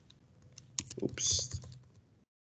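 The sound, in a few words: typing on a computer keyboard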